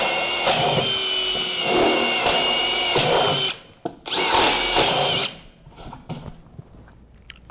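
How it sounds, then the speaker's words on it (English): A power drill with a Stinger Power Bit whirs loudly and close up in sustained bursts while boring through expanded PVC board, cutting out briefly partway through before a short final burst, with no talking. "Simply chuck them up and start drilling. You'll speed through holes like this expanded PVC board."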